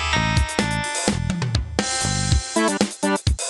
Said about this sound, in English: This next one is called Inspector Gadget Global Terror on MS-DOS, and the intro sounds like this.